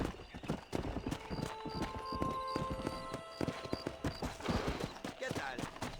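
A horse gallops in Red Dead Redemption with rapid rhythmic hoof clip-clops and a whinny, while people talk over it.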